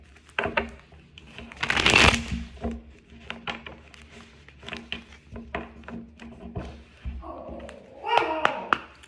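Riffling and tapping of playing cards being shuffled, with a loud burst of shuffling early on, under quiet speech and soft thuds.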